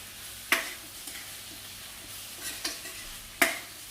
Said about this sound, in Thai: สองหมอเลยครับทั้งผัดจระเข้แล้วก็ผัดหนูครับผม